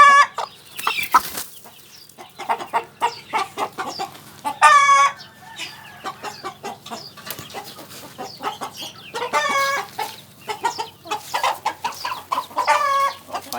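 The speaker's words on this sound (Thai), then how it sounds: "นี่ไก่ที่เบตนะครับสีดำ" Black Chiang Rai chickens cluck and crow repeatedly at close range, with several rooster crows rising over steady clucking and a low hum of a farm setting.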